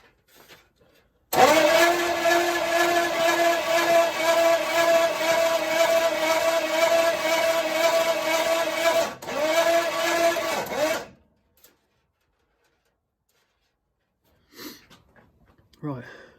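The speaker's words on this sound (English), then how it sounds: "Right, so we have it cranking and turning." A 1973 Pontiac Firebird Trans Am engine cranking on its starter motor, a loud steady whirring drone for about ten seconds with a brief break, then stopping, followed by silence and faint handling noises.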